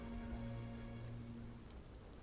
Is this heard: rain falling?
yes